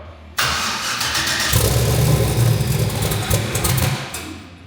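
A turbocharged Ford Fairmont engine cranks and catches, then revs loudly and steadily up close, the rough mechanical roar sustained for several seconds with no talking.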